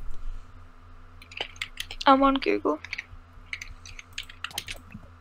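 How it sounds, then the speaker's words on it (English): Computer keyboard typing during a Minecraft server session: light, quick clicking keystrokes scattered through the clip, mixed with voices talking and game sounds. "Why are you typing?"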